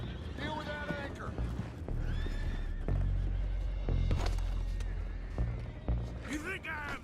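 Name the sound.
horses neighing in video game Red Dead Redemption 2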